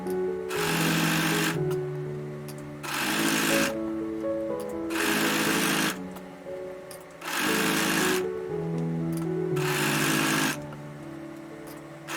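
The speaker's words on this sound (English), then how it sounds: "now we're going to run this through the serger at 1/4 of an inch seam" Serger sewing machine stitching a quarter-inch seam on a homemade pillowcase, loud and close, running in steady bursts of about a second each with short pauses between, and a low whirring hum throughout.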